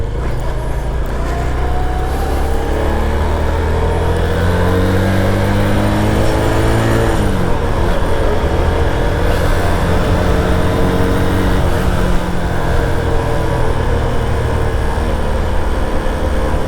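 A Runner Turbo 125 v2 motorcycle being ridden hard. Its engine is loud and close, with revs climbing in long sweeps, briefly dropping off, then pulling up again, and it drones continuously from start to end.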